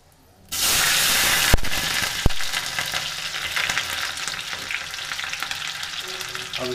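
Ingredients hitting hot oil in a pan on a gas stove, a sudden loud sizzle that settles into steady close frying with a few sharp clinks of a utensil stirring.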